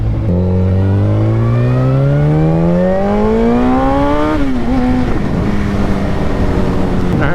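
A Yamaha FZ1 motorcycle engine revs up hard through a rising pitch on a twisty road, then drops off as the throttle is shut and settles into a steadier drone, loud and close throughout.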